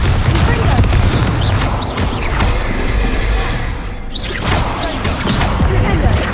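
Bombarda explosion spell in the video game Hogwarts Legacy, loud booming blasts and crashing impacts amid whooshing spell effects during a chaotic fight, with a voice shouting over the noise.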